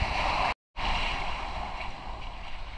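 Ocean waves roll in at South Beach, Miami, a loud, continuous broadband wash of surf and wind, broken by a brief dropout to silence early on before the rushing resumes.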